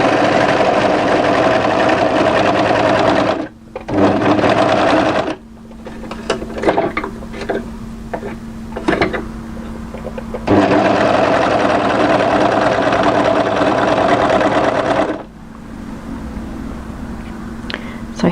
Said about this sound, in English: And start overlocking down.